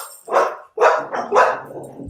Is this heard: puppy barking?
yes